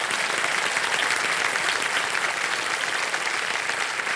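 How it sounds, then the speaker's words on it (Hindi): A studio audience on the quiz show Kaun Banega Crorepati applauds a contestant, producing dense, steady clapping that stays loud and even for about four seconds with no pause. "जोरदार तालियां हो जाए एक बार प्राची जी के लिए"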